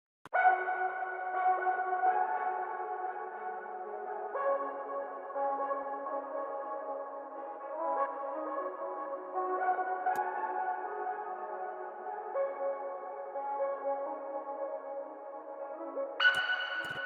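Synth arpeggio pattern with halftime, delay, reverb and EQ, made for a beat, forming a steady sustained melodic texture that runs throughout with a brighter layer entering near the end.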